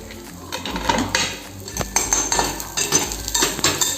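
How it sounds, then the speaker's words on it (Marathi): Onions for a Kolambi Rassa prawn curry are turned in a pan, with a metal spatula scraping and clinking against the pan in irregular strokes, close and fairly loud, with only faint sizzling. "हे पा हे कांदे असे भाजायचे"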